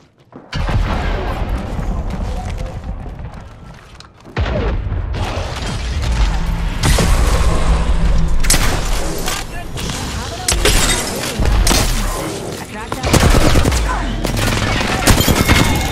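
Rapid gunfire and impacts during an Apex Legends firefight, loud bursts that come and go across the stretch, heavily mixed with a player's excited talk.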